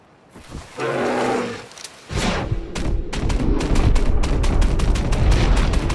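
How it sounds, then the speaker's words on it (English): A grizzly bear's deep roar gives way to a string of loud, close gunshots in Red Dead Redemption 2, the sharp cracks falling in quick succession with heavy rumbling in between. "I got wrecked by a couple of grizzlies in the game, so whenever I get a chance, I just blast them."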